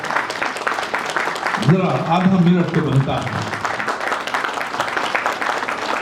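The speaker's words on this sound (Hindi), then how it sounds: "एक जोरदार ताली दीजिए ना विजय सालास्कर की, और लगातार ताली बजाते रहिए उन सभी के लिए" Crowd applause for martyred police officer Vijay Salaskar at the Karamveer Achievement Awards 2021 ceremony, a broad wash of clapping running throughout while someone speaks over it at the start and end.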